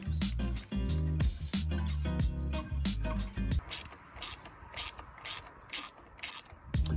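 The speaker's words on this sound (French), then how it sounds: "donc boulon du dessous il est remis" Bottom bolt on a Kawasaki KXF450 being tightened during an oil change, a quick series of metallic ratchet clicks, close and clear, giving way to lighter, spaced ticking.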